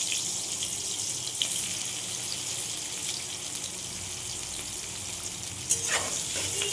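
Onions sizzle in hot oil left from frying potatoes, a steady close hiss broken by a couple of sharp utensil clinks as they are stirred.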